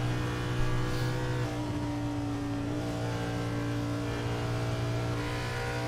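Race car engine in the iRacing game, heard onboard the 4 car in a CTC Cup Series race at Indianapolis Motor Speedway: a steady, loud droning hum at sustained high revs with a slight pitch shift partway through, alone without talk.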